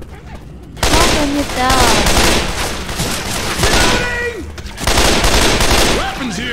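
Rapid automatic gunfire rattles in the zombie shooter Left 4 Dead 2 on a custom apocalypse map, with dense, continuous bursts filling the scene. Players speak over the shooting.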